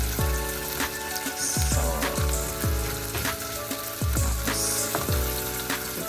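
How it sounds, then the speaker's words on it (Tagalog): Beef and broccoli stir-frying in a hot pan give a steady, loud sizzle, with a utensil clanking against the pan at a regular, brisk rhythm. No one speaks. "Stir fry nga siya."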